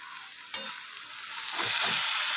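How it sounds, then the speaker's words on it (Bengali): Dried fish (shutki) and tomato sauté in a pan: a knock, then a sizzle that grows louder and steadier while a spoon stirs. "এবারে একটু কষাবো। এবারে টমেটোটা দিয়ে দেবো।"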